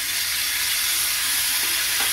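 Chopped tomatoes and green chillies hit a pan of frying potatoes, giving a loud, dense, continuous sizzle and hiss close by.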